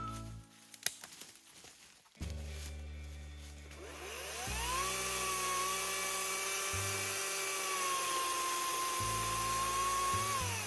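A chainsaw cuts through a small-diameter standing tree, its blade top throwing sawdust away from the cutter. After a few brief bursts the engine rises into a loud, steady high whine that holds for several seconds close by.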